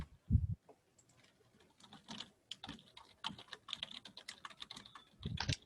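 Typing on a computer keyboard during a class session: quiet, irregular clicking keystrokes at close range, in uneven bursts with brief pauses, with a few louder thumps at the start and end.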